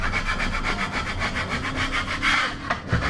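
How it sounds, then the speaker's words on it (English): A drywall knife scrapes across a drywall surface around screw spots, making a continuous close rasping rub in quick repeated back-and-forth strokes with no talking. "we're going to take the knife that we have here and we're going to scrape some of these"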